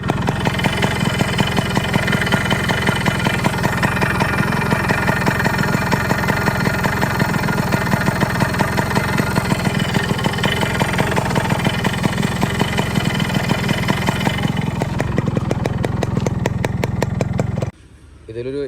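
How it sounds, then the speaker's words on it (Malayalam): Yamaha RX100 1991 two-stroke motorcycle engine with a cylinder noise fault idles close up in a fast, steady popping rhythm, loud and continuous, cutting off near the end. "നമുക്ക് ഒരു സിലിണ്ടറിൻ്റെ അടുത്തുനിന്നൊരു ഒരു എൻജിൻ നോയ്സ് വരുന്നുണ്ട്."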